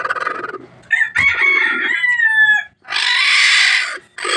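A labuyo bantam junglefowl rooster crows nearby, a loud drawn-out call, followed by a second harsh crow after a brief pause, with clucking fowl around it.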